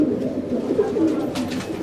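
Several pigeons, among them black Shirazi and red-banded birds with pure white tails, coo in a steady, continuous murmur close by, with soft overlapping calls and no talking.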